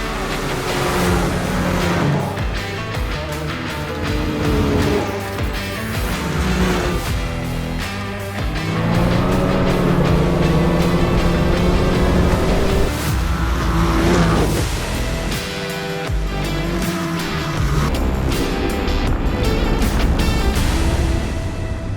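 Polaris snowmobiles ride on a lakeside trail on Lake Vermilion, their engines roaring loud and continuous with shifting revs throughout, the whine rising and falling as the sleds speed along close by.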